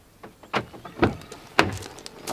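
Keyless entry button pressed on an MG ZS 1-litre six-speed manual, releasing the car door: a few close, crisp clicks and clunks about half a second apart, with quieter handling noises between them and no talking.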